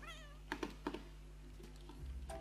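A cat meows a few times in The Sims 3, short voiced calls near the start followed by quieter game sounds and a low background hum, with no one talking.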